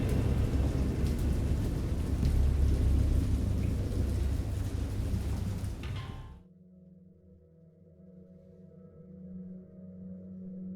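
Heavy rain and thunder roll as a steady, dense roar for about six seconds, then cut off abruptly, leaving a faint low rumble.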